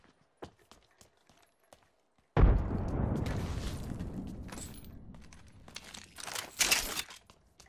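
A frag grenade detonates in Apex Legends: a sudden loud boom followed by a long rumbling, crackling decay, then a flurry of sharp debris and gunfire-like bursts near the end.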